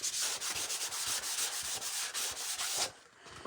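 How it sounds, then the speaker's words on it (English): Rhythmic scratchy strokes of sandpaper rubbing across wood, a dozen quick back-and-forth passes up close, then the sanding stops. "I usually just use like a sanding block or a high grit sandpaper"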